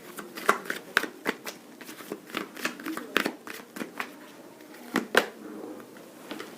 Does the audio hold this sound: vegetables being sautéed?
no